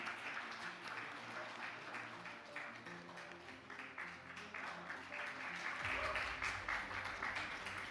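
Audience applause at a finance conference session, a steady wash of clapping running through the whole stretch and swelling louder near the end, with faint voices underneath.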